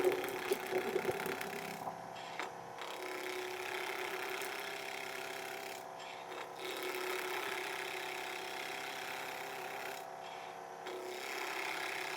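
Steady machine drone, likely a lathe or similar shop machine spinning at just under 2,000 RPM while turning a wooden bottle opener, running continuously and fairly loud with a brief rasping scrape near the start.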